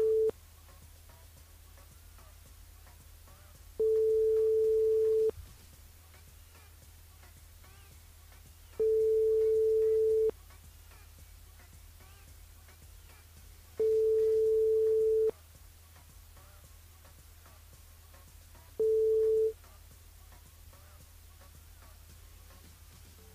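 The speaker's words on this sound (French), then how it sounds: "Ah, là ça sonne." A telephone line rings out during a live radio call-in game, five steady electronic tones repeating at even intervals with silence between them, clear and alone with no talk.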